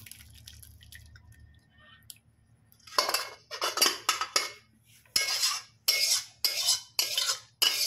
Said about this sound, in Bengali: কড়ার গায়েতে খুব সুন্দর করে ছেঁকে আমি নিয়ে নেব